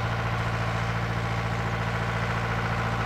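A tractor engine idles steadily in a hop field, a close, even low rumble with a constant throb and no change in pitch.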